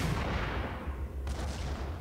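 A grenade launcher fires in the video game Max Payne: a heavy, booming discharge over a rumbling low din, with a sharp crack near the middle of the short stretch.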